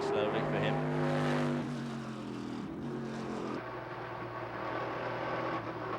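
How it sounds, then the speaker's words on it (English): An IMSA GTP race car engine at Mid-Ohio in 1993 runs rough as the car heads slowly to the pits, a droning, uneven engine note under a commentator's voice. "Oh, the car sounds really terrible. awful now."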